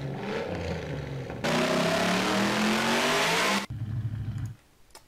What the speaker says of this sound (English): the acceleration sound